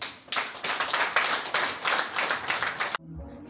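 An audience claps together in steady, lively applause, a close and continuous patter of many hands that stops abruptly after about three seconds.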